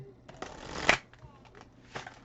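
Playing cards are shuffled in a few quick riffling bursts, with a sharp loudest riffle near the middle, heard close up under intermittent talk.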